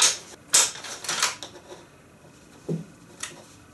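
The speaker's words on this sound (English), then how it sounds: "The way I'm going to ensure that my rifle's safe is I'm going to remove the bolt" Metallic clicks and scrapes of a bolt being worked and drawn out of a rifle, a few separate close mechanical sounds with short gaps between them.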